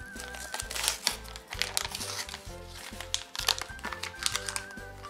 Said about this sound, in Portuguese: Tirar aqui o papel.